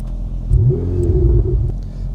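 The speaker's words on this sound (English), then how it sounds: "gonna give you that Ferrari startup" A Ferrari Spider starts up outdoors and its engine rumbles and revs once, a deep, loud, close rise that lasts about a second before settling to an idle, with no talking.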